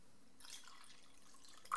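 Sauerkraut juice is poured into a glass of beer, giving a quiet liquid trickle and faint splashing, with a brief brighter drip or gulp at the end.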